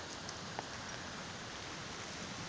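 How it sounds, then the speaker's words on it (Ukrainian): Steady rain patters and drips outdoors on a dark, windy summer day as a thunderstorm moves in, a soft continuous hiss of drops with no voices. "І вже дощ капає."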